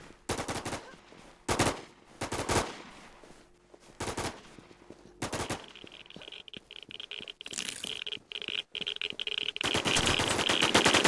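Rapid automatic gunfire in the online shooter Infestation The NewZ, loud bursts of close rattling shots broken by brief pauses, then a long sustained volley near the end with a high ringing tone underneath.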